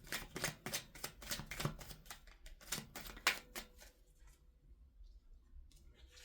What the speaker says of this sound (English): And I started shuffling